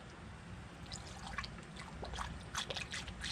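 Engine Ice coolant poured through a large funnel while bleeding a Polaris RZR Highlifter 1000XP, a faint, close trickle and dribble of liquid over low background hum.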